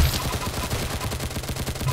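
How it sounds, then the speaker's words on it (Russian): Rapid, steady burst of acid gun fire in the Roblox game Arsenal, a fast repeating stream of close, loud shots running for the whole stretch without pause. "Убил его из кислотной пушки."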